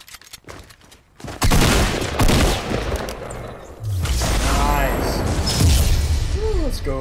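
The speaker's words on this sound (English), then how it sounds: "I just blew him away with RPG" An RPG blast and gunfire in the video game Fortnite, with a sudden loud boom followed by heavy rumbling and bursts of shots. Excited voices talk and shout throughout.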